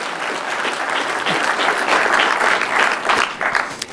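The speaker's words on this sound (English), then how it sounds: "This is where you applaud the judges." An audience at a business school case competition applauds the judges, a dense, steady wash of many hands clapping close and loud for about four seconds.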